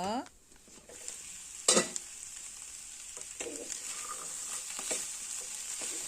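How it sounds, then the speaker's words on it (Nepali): Chana chaat mixture with potatoes being stirred in a bowl, soft scraping and a few sharp spoon clinks against a quiet steady hiss, mostly alone with little talk. "मजाले चलाउनुपर्छ"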